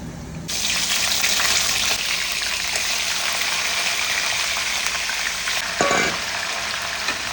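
Bengali-style crab curry, kosha kakra, sizzles in a pan, a steady hissing fry that starts abruptly and continues loud and close, with a brief clink partway through.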